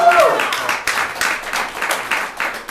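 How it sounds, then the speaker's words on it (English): Applause from a small audience after dance students introduce themselves, rhythmic clapping with loose bursts, fairly close, voices mixed in at the start. "Another round of applause."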